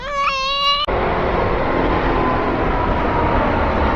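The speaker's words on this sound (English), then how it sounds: "watching the planes take off" Jet planes taking off at London Heathrow Airport, a steady loud roaring rumble of engines that fills the scene after a short tonal sound at the start.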